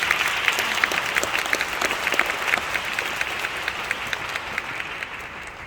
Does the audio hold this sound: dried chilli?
no